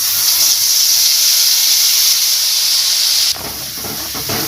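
Steady, loud hissing sizzle of spice paste hitting hot oil in a pan while Bengali potol curry cooks, continuous and close, then dropping slightly in level with faint clatter near the end.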